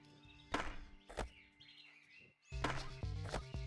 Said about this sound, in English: The birds sound so beautiful over here.